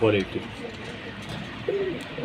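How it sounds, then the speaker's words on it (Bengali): Gola pigeons give a soft, low coo at the start and another brief coo near the end, close by, over a steady background murmur. "কবুতর গিলা খুব ভালো মানের ভালো কোয়ালিটি"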